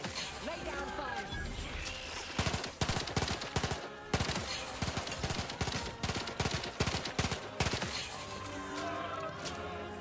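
Video game gunfire rattles in rapid automatic bursts with crashing impacts, loud and dense throughout, while voices talk over the shooting.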